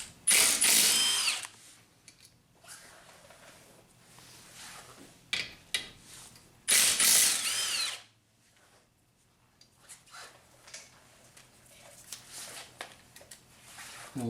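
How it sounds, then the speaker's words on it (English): A ratchet loosens the 12mm caliper bolts on the front brakes of a 2004 Honda Accord, with two loud bursts of rapid clicking work and quieter tool handling and shuffling between them, close by. "And then we'll take off these 2 caliper bolts."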